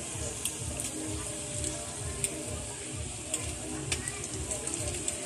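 Hotdogs frying in a kawali pan for dinner, a steady close crackling sizzle with scattered sharp pops and ticks.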